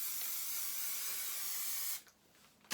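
Aerosol spray can hissing in one long, steady, close burst for about two seconds, then cutting off to near silence before a faint click.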